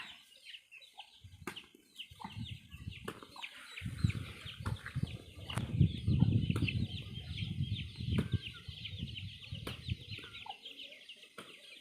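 Chickens clucking around a Thai vegetable garden, with soft repeated clucks and calls over a rustling, flapping background that swells in the middle; no speech.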